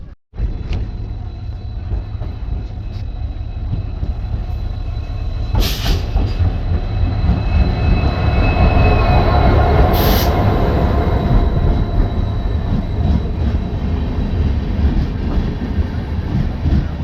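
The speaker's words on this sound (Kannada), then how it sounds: "the Panchaganga Express. The train number is 16516." Panchaganga Express passenger train, number 16516, rumbling along the tracks with a steady heavy roll and wheel noise that swells midway, close and loud throughout with no talk.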